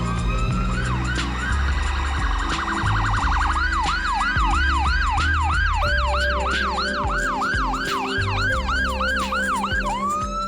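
A wailing ambulance siren sweeps up and down repeatedly, loud and close, with Toronto traffic rumbling beneath it.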